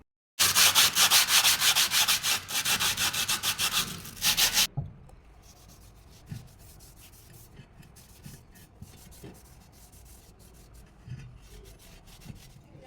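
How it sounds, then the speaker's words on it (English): Steel being sanded by hand with sandpaper before painting, heard as loud, fast rhythmic scraping strokes for about four seconds, then quieter scattered rubbing and light taps. "We're going to give it a good sand"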